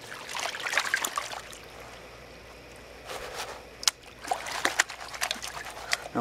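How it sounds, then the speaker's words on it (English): Gravel being swirled in water in a gold pan in a backyard, with soft trickling and sloshing in uneven bursts and small gritty clicks, close and quiet, with pauses between the swirls. "you're moving the gravel around and you're forcing all that gold to sink to the bottom of the pan"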